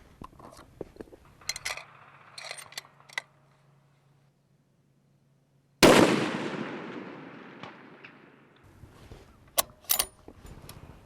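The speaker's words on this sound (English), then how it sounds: "Today I'm going to be shooting at 600 yards" One army sniper rifle shot at a 600-yard range cracks loudly and alone after a quiet stretch, then its echo fades. Scattered small clicks and handling noises sit around it.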